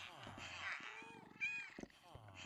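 Cats meowing in the Minecraft video game, several short synthetic meows repeating close together over game sounds.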